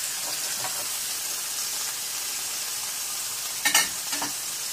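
Food sizzles steadily in a hot pan with a constant crackling hiss, and a couple of brief louder bursts come near the end.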